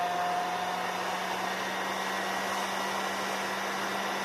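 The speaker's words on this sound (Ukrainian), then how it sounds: "Я включаю фен" A hot air rework gun blows with a constant, loud whooshing hiss and a faint steady hum beneath it, running unbroken throughout while heating a chip on a radio circuit board.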